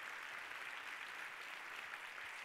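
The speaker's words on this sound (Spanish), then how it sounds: "le damos un fuerte aplauso a Marga" Soft, distant audience applause at a FameLab 2017 science monologue semifinal in Barcelona, an even continuous patter of clapping without speech.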